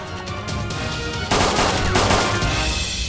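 Loud gunfire in the zombie survival game DayZ, a burst of shotgun blasts inside an apartment building, the second half louder and denser with overlapping reports.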